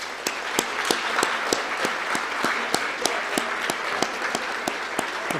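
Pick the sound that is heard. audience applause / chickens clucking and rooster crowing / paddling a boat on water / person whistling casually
audience applause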